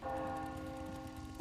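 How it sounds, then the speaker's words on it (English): A church bell in a video game rings in a sustained, faint tone with a steady hum that fades gently over a second or so. "Church bells."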